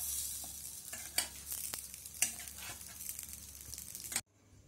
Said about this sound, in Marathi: छान लालसर होईपर्यंत आपल्याला हे कटलेट्स फ्राय करून घ्यायचे आहेत।